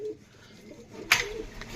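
Pigeons in a loft, including Pakistani birds, give faint low cooing murmurs, ending with a brief sharp flutter or scrape near the end, with no one talking.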